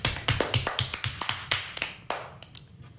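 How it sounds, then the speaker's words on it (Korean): A single person claps their hands about a dozen times in a quick, slightly uneven rhythm. The claps are close, sharp and fairly soft, with no talk over them. "박수."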